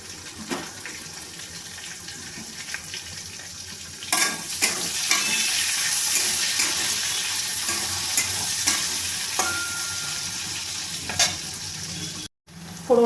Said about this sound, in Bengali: এখানে যে আমি পেঁয়াজ, কাঁচা লঙ্কা আর রসুন কুচিয়ে রেখে দিয়েছিলাম, সেটাও আমি ফোড়নের মধ্যে দিয়ে দেবো।